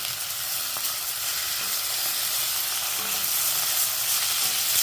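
Tomato and onion sautéing in a pan for home-made okra soup: an even, continuous frying sizzle with occasional soft stirring sounds, close and without voices.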